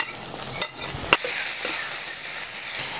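Carrots being stirred into a hot frying pan while cooking koloke ayam, with a steady close sizzle and two sharp utensil scrapes against the pan near the start.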